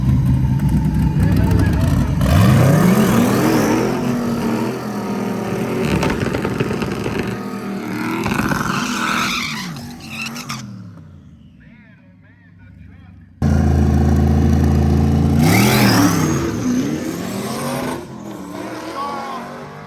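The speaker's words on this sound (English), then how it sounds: "We went right into the heads-up race against Rex and his S10 to determine the winner of the stick shift class" Drag race cars in a Chevrolet S10 stick shift heads-up class accelerate hard with rising engine roars and gear shifts, cutting out briefly before resuming, with people talking over the loud racing.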